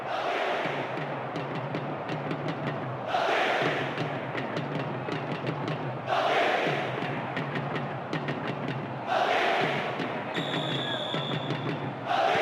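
In the football video game PES 2010, a stadium crowd jeers and roars in repeated swells every few seconds, a broad rising-and-falling wash of voices under steady match commentary.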